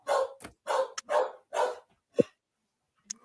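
A dog barks several times in quick succession, loud and close, followed by a short yip and a faint whimper, with no talking.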